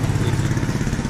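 A Japan-built motorcycle engine runs nearby in Balochistan, Pakistan, a brief, steady mid-pitched throbbing rumble with no talking.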